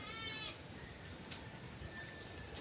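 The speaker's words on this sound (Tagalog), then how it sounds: "Yung kambing natin nandun." Goat bleating on a pig farm, a few faint nasal calls at a distance over steady farmyard background noise.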